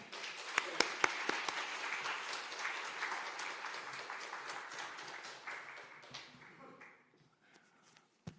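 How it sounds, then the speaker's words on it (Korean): Church congregation applauding to welcome the preacher at a Sunday service, a steady round of clapping with a few sharp claps standing out, fading out near the end with quiet room sound after. "나오실 때에 박수로 환영하시고"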